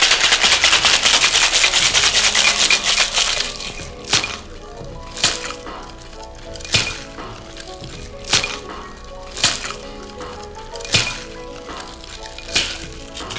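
Ice and Absolut vodka rattle in a cocktail shaker, first in a dense rapid clatter, then in a slower run of separate sharp shakes at a steady rhythm, with no talk.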